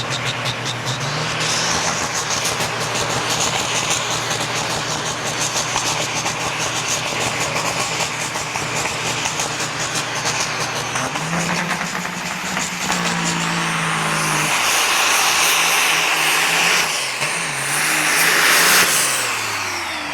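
A racing big rig truck engine at Onaway Speedway roars steadily and loudly for a long stretch, its pitch rising and shifting as it revs, with a hissing, whooshing rush near the end.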